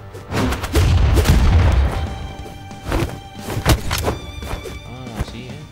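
A bomb explodes in the Brawlhalla fighting game, giving a loud booming burst of low rumble followed by further thuds and game effects, with brief speech mixed in.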